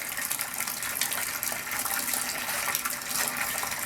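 Wort from the first runnings drains out of a Spike Brewing mash tun in a steady, close, continuous splashing gush of liquid, with no talk over it.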